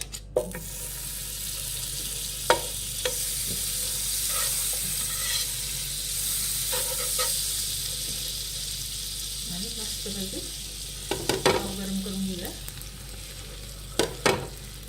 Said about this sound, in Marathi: शेकून घ्यायचे आपल्याला बटरमध्ये पाव